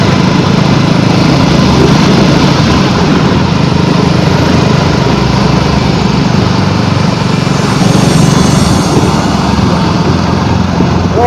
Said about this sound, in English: If not, I'll just have to leave the sound of the bike.